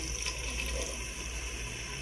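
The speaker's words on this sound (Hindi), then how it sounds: "अब हम इसमें थोड़ा सा पानी शामिल करेंगे" Water poured steadily into a cooking pot of lentil qeema, a continuous splashing gush, close and moderately quiet.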